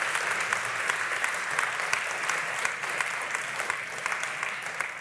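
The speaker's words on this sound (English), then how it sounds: "I would suggest a round of applause for City of Helsinki and Nuco" Crowd at a startup pitch event giving a sustained round of applause, many hands clapping in a steady, even wash that holds its level throughout without any speech.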